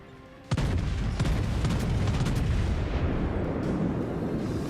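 A heavy naval gun salvo from a warship in a World of Warships-style video game bursts loudly into a sustained rumbling roar after a brief quieter lead-in.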